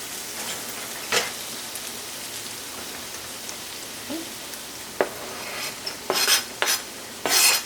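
Onions stirred into a frying noodle sauce give a crackling, rain-like sizzle with scattered pops and a few louder scraping stirs toward the end; no talking.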